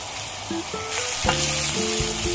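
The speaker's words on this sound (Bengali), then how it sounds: "এই সময় এর মধ্যে দিয়ে দেবো আগে থেকে ভেজে রাখা মাছের মাথাগুলো। মশলার সাথে 2 মিনিট কষিয়ে নেব।" Pre-fried fish heads sizzling loudly in spice masala in a pan for fish-head moong dal, a strong continuous hiss close up with a few tonal hums beneath.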